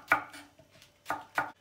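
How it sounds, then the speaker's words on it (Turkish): A knife chops peppers on a cutting board in a home kitchen, four or five sharp, close knocks in an uneven rhythm with short pauses between them. "Hemen şöyle yapalım, biberlerimizi doğrayalım."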